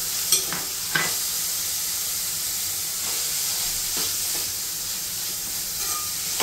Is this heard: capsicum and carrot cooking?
yes